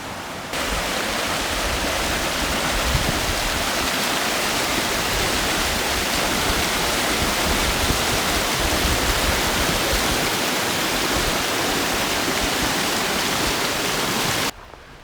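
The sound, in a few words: river flowing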